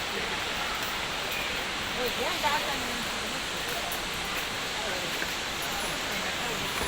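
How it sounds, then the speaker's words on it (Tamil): Agaya Gangai waterfall in the Kolli Hills roars as a steady, dense rush of falling water, loud and unbroken throughout, with someone faintly talking beneath it. "உங்களுக்கு இந்த அருவி சத்தம் கேட்கும்னு நினைக்கிறேன்"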